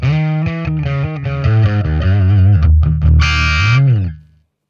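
Distorted electric bass plays a sustained melodic line through a classic bass amp modeler preset on a DIMEHEAD NAM player pedal, thick and gritty, then rings out and stops abruptly at the end.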